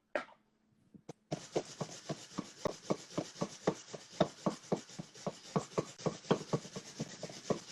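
A knife chops through baby carrots on a cutting board in a home kitchen, a fast steady run of sharp woody thuds and scrapes, close and loud, continuing for several seconds after a brief pause.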